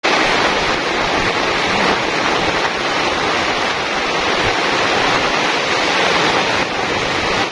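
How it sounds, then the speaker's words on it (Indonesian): Dense, steady rush of heavy rain mixed with gusting wind in a forest during a thunderstorm at night, a continuous loud hiss with no pauses. "menikmati suasana hujan lebat, angin kencang, petir gemuruh"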